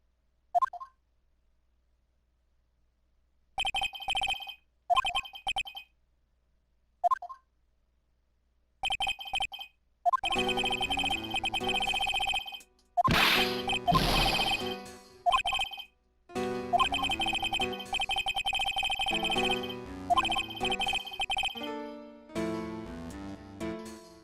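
A telephone rings in the Phoenix Wright: Justice For All courtroom game, in several short bursts of electronic bell tones with pauses, followed by denser game sound effects and music.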